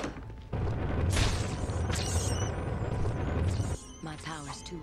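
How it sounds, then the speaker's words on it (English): Heat-seeking missiles exploding in the video game Baldur's Gate Dark Alliance: a loud, sustained burst of booming, crashing blasts that cuts off abruptly, followed by quieter game sounds. "heat-seeking missiles"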